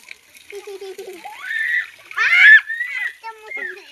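Water splashes in short bursts while plants such as peas are watered in a home garden, with a voice and other voices chattering over it.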